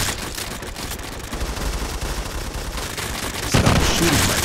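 Rapid gunfire from a video game match rattles in dense, continuous bursts, loud and sustained throughout with no pauses.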